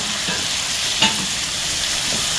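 Tomatoes and spices fry in a pan while being stirred, giving a constant loud hiss of sizzling oil with a single brief scrape of the spoon near the middle; no voices.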